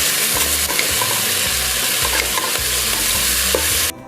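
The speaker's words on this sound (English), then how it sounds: "Stir and sauté the veggies for about 5 minutes." Carrots and celery stirred and sautéed in a soup pot, a spoon scraping in steady repeated strokes over a continuous close sizzle.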